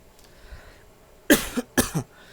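Two sharp, heavy coughs in quick succession, close up, after a brief quiet moment.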